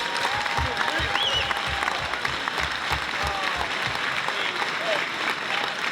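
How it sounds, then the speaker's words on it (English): A crowd applauds at a high school basketball boosters hall of fame ceremony held in a gym, producing loud, dense, sustained clapping with some cheering and crowd voices mixed in. "Let's give a final round of applause to the 2022 class of the Highlands Basketball Boosters Hall of Fame."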